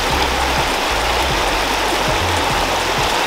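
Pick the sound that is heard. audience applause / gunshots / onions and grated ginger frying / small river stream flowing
small river stream flowing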